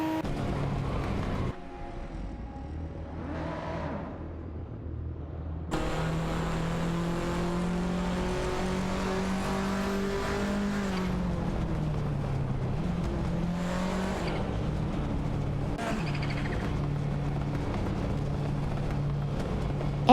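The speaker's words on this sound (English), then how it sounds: "Racing car dashing away." A race car's engine roars at high revs and shifts pitch repeatedly as it accelerates hard and speeds away, loud and continuous for about twenty seconds with no talk.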